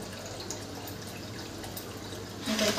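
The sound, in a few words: water running from a tap into a pot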